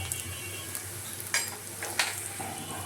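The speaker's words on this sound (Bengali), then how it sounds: "পেঁয়াজ কাঁচামরিচ শুকনো মরিচ তেজপাতা রসুন কুচি এগুলো ভালো করে ভেজে নিতে হবে" Onion, green and dry chili, bay leaf and chopped garlic frying in a pan, a soft steady sizzle with a few sharp clinks of a spoon stirring against the metal.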